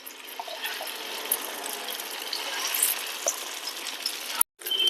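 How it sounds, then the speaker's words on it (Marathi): Potato and poha cutlets fry in plenty of oil over a low flame, making a steady, soft, close sizzle with faint crackles, interrupted by a brief gap near the end. "लो फ्लेमवरच फ्राय करायचं."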